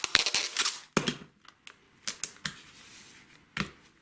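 Masking or painter's tape being pulled off a roll while putting up a design wall, heard as a string of sharp, crackly rips and snaps, several clustered early and more scattered ones later, close and fairly quiet.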